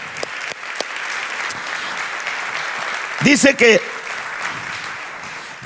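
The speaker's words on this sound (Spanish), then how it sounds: "Dele un fuerte aplauso al Señor" Church congregation applause at an evangelical service fills the room as a continuous, loud crowd clapping, while a voice speaks briefly over it partway through.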